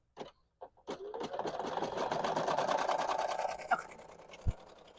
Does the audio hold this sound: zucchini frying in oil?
no